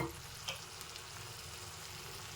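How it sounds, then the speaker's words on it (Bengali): Pre-fried pointed gourd and potato go into a pan with spices, giving a faint, steady sizzle with a brief clatter near the start and no talking. "এবারে আগে থেকে ভেজে রাখা পটল আর আলুটা আমি দিয়ে দেবো"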